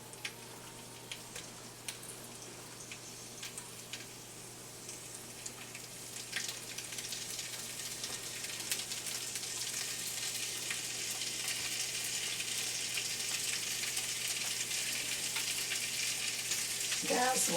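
Kielbasa sausage slices fry in a skillet, a soft sizzle building steadily into a louder, constant crackle with scattered fine ticks and pops, no voices over it.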